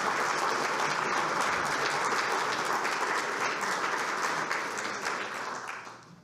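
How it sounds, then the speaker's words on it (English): Sustained, loud audience applause at an evening talk reviewing the 2024 election, a dense wash of many hands clapping that holds steady before tapering off near the end. "Let's give Rick a round of applause."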